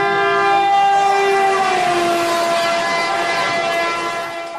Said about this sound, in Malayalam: ട്രെയിനിന്റെ ചൂളമിളി മുഴങ്ങിയത്